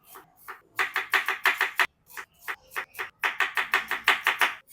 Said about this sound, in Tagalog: sibuyas, matik, chop natin yan ng mince